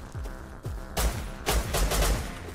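Rapid gunfire in the survival video game Rust, with a burst of repeated shots that grow louder in the second half, close and sharp, with no talking.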